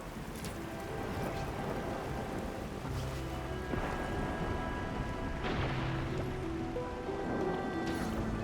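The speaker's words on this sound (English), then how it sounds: "It's raining harder. I can't hear anything except for the rain." Heavy rain in the Arknights Endfield video game, a steady loud downpour hissing on surfaces with a low rumble underneath, continuous and alone without talk.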